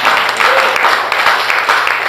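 A church congregation applauds during a sermon, a dense, steady wash of clapping close by with a faint low hum beneath and voices mixed in.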